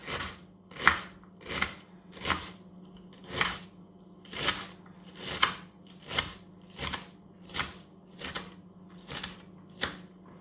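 Knife chopping onion, celery and carrot on a cutting board, a steady run of about a dozen crisp, close strikes spaced evenly, over a low background hum.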